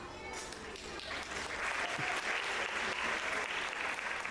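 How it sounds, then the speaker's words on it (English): A crowd at a school annual day claps steadily for graduating students, the applause swelling slightly louder after the first second and continuing without a break. "a big applause to all those graduating 8th grade students"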